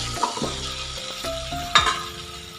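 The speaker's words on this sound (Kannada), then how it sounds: "ಈ ಟೈಮಲ್ಲಿ ನಾನು ಈರುಳ್ಳಿಯನ್ನು ಸೇರಿಸ್ಕೊತೀನಿ. ಈರುಳ್ಳಿನೂ ಸ್ವಲ್ಪ ಟ್ರಾನ್ಸ್ಪರೆಂಟ್ ಆಗಲಿ" Onions frying in a pot for vegetable pulao, a close, crackling sizzle broken by several knocks and scrapes of a spoon against the metal.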